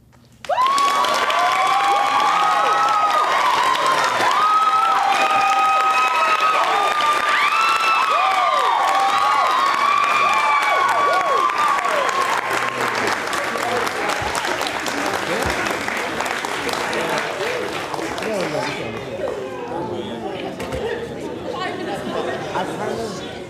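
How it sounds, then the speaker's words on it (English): An audience bursts into applause and cheering at the end of a play, loud sustained clapping with whoops and chatter, tapering somewhat toward the close. "A round of applause to our company."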